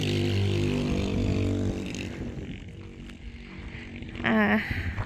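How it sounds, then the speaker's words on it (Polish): A loud motorcycle roars past on a quiet road near the Mauritania–Morocco border at night, its engine swelling, then fading away before a last sharper rev near the end. "Teraz jedzie jakiś głośny. Co to jedzie? A, motor oczywiście jakiś."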